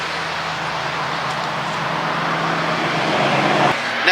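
A bus rolls past a parked car on a road, its low engine drone and tire noise building steadily over a few seconds, growing louder toward the end before a brief sharp thump.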